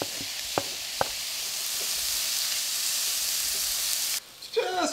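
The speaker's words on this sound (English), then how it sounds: "Just fry the onions and the peppers down until the onions start to become a bit translucent." Onions and peppers sizzle steadily in a hot pan, a bright continuous frying hiss with a few sharp knocks early on, cut off near the end by a brief rustle.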